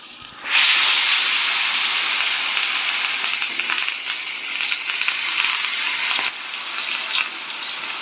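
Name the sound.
chicken leg pieces frying in hot oil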